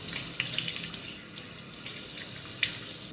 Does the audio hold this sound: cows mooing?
no